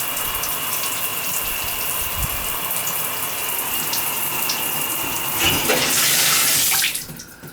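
Water sprays forcefully out of a tub shower valve in a bathroom wall, a steady hissing gush that keeps going at an even level, swells louder near the end, then cuts off abruptly, with no voices.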